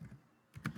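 Soft computer keyboard keystrokes, a short run of three or four quick taps entering text into a program, faint and close in a quiet room.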